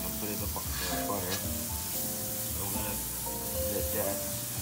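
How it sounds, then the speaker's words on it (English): Butter sizzling and frying in a hot pan, a steady close crackling hiss with occasional stirring and clinks of utensils, while a voice talks faintly in the background. "the first thing we're gonna do is we're gonna put in the butter"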